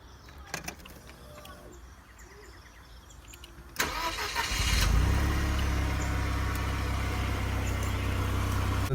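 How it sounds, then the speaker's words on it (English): An older Mercedes-Benz C-Class in good condition cranks briefly and fires up, then settles into a steady, loud idle close by; a few faint clicks and handling noises come before the start. "You can hear how the car starts after all these years."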